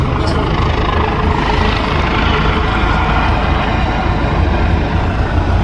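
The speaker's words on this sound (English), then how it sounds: "See the helicopter there?" A helicopter roars loudly and steadily nearby over a port during a ship fire rescue, its rotor thrum and engine noise filling the whole clip without a break.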